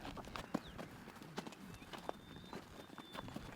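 Horse hooves clip-clop in an irregular walking rhythm, close by and fairly quiet, with no one talking.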